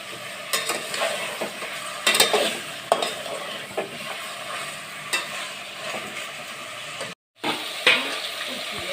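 Chicken sautéing in oil in a pan, with repeated scraping stir strokes over a low, steady sizzle, mostly alone, with a brief dropout near the end.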